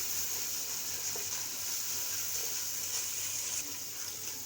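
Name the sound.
masala and fish pulao base frying in a pan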